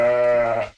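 A sheep bleats once, a loud, close, wavering nasal cry that holds steady and then cuts off abruptly, heard alone.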